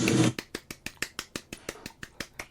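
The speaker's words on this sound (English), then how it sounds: "We're doing a little golf clap right there." A brief cheer gives way to a polite golf clap: about a dozen soft, evenly spaced hand claps, close and fairly quiet, with no talking over them.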